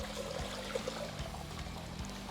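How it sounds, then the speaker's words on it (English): Water trickling slowly past a clog inside a cracked pipe, a steady low pouring and dribbling wash that runs continuously and close by with no voices. "The water's slowly going by it, which is what's gonna happen."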